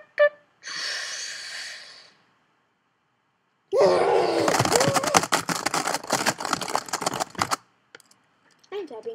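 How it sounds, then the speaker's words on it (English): Rapid clicking on a computer keyboard during a Minecraft game, a dense run of sharp, close taps lasting a few seconds after a brief breathy sound and a short silence. "I'm tapping on my keyboard."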